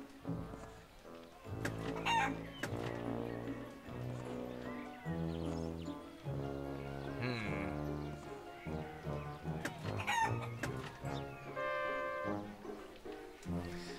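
A chicken clucks and crows in the video game Wallace & Gromit's Grand Adventures, a run of rhythmic, tonal clucking calls repeated throughout, fairly loud, with game sounds around it and no talking.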